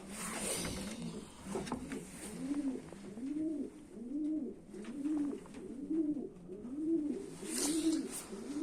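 Homing pigeons coo in a steady, repeating rhythm, soft throaty calls rolling one after another, fairly close, with faint background noise.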